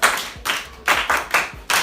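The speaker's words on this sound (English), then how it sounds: "A clap for that man." A Nigerian classroom of students claps for a classmate: a few loud, close, sharp group claps in an uneven rhythm, with brief gaps between bursts.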